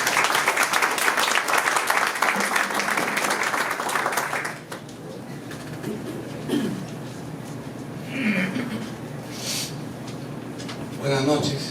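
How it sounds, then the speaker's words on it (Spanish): An audience at a conference welcomes a speaker with loud, dense applause for about four seconds. The clapping then dies away into room noise and a few scattered sounds. "a quien recibimos con fuertes aplausos"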